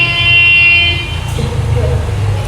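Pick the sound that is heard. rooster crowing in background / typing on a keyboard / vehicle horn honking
vehicle horn honking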